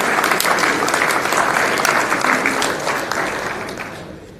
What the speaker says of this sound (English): one more round of applause for all of these guys